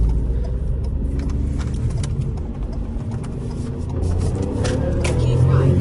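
A 2006 Ford Fiesta MK5, said to have a turbocharged engine rather than a 1.2, revs hard with a loud continuous roar that rises toward the end, recorded from inside the car, with people talking over it.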